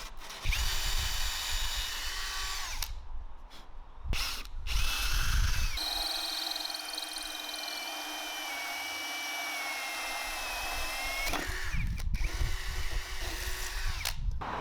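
A power tool cuts out a template from 18mm quality plywood, a loud whining drone running in stretches broken by brief pauses and clattering handling noises.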